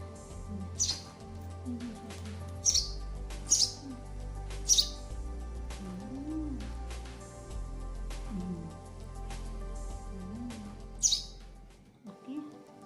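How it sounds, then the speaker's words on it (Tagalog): A small pet bird kept indoors chirps in short high bright calls while being fed at home, repeated at irregular intervals, close by, over a steady low background hum. "may maliit kami na ibon"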